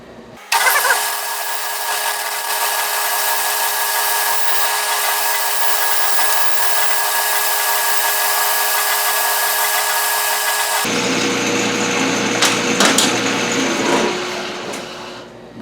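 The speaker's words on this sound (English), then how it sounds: "So what we'll do, we'll part this off," A Grizzly mill drill whirs loudly and steadily while parting off a metal part, then the tone drops into a rougher cutting noise with scattered clicks and clatter near the end.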